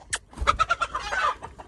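Agitated chicken clucks in a backyard coop where fresh eggs are being gathered, a rapid run of close, loud squawking bursts.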